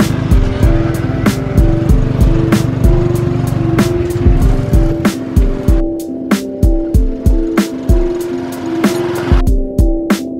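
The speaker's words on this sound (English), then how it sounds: "And we're off in the tuk-tuk." A tuk-tuk rides across a busy road near Angkor Wat. Its loud, steady engine drone is broken by a run of sharp rhythmic bumps and clatters, with nearby traffic passing.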